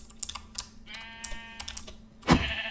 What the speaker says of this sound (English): Oh my god, there's so much sheep.